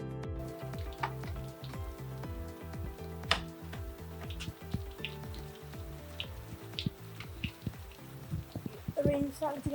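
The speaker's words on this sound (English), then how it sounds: "The rain's starting to get heavier." Rain falls on and around a car parked with its doors open during body work on a BMW 140i: a dense, steady patter of drops, fairly faint, with occasional louder taps and some handling noise.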